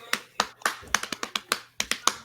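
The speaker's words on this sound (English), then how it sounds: "somebody clapping" Someone nearby claps about ten sharp, crisp times in a slightly uneven rhythm, each clap close and distinct with short gaps between.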